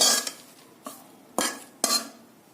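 Curry leaves being sautéed in a pan, with a few distinct metallic scrapes of a spatula against the pan in an uneven rhythm, close and moderately loud.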